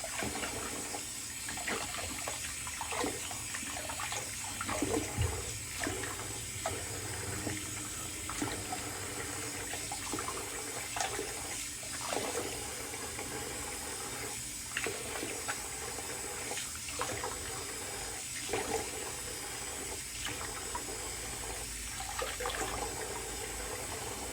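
Tap water runs continuously into a sink, a steady splashing hiss with small irregular gurgles, close by and without speech.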